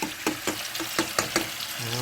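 Sliced scallions frying in oil in a pan for a mock aglio olio, with a steady close sizzle broken by regular sharp crackles and pops.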